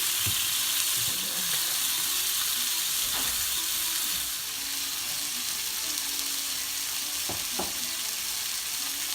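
Sausages fry in a pan with beer, ghee and garlic, a loud, constant close sizzle and hiss with a few soft clinks and bumps scattered through.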